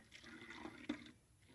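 Cold brew Lipton tea poured into a Ball glass jar, a soft, steady liquid trickle with a brief brighter splash near the middle, close and quiet, no talking.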